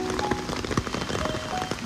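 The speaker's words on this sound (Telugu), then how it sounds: "ఎంత భయంకరంగా వర్షం పడుతుందో" Heavy monsoon rain falls in Casa Rio Palava, Mumbai, after days of nonstop downpour. It makes a dense, loud, continuous patter on surfaces nearby, with a few faint tonal sounds mixed in.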